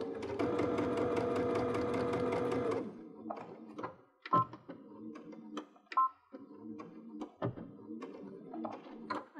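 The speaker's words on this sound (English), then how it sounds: "We're gonna sew these shoulder seams together using a 1/2 inch seam allowance" A home sewing machine runs steadily for about three seconds, stitching the shoulder seams of a party dress with a half-inch seam allowance, then stops, followed by scattered handling clicks, taps and fabric movements.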